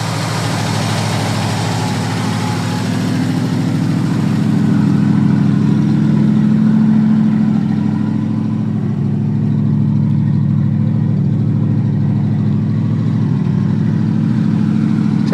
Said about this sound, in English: here's the 68 International running